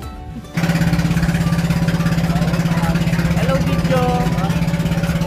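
An island-hopping boat engine starts up after a brief moment of quiet and then runs with a loud, steady, throbbing idle. Voices speak over the engine noise.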